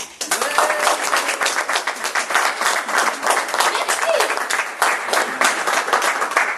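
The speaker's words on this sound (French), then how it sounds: "Mesdames, mesdemoiselles, messieurs, veuillez applaudir Madame Mère, Reine Mère." A theatre audience at an end-of-course performance applauds the Queen Mother character with dense, continuous clapping, while a voice speaks briefly over it.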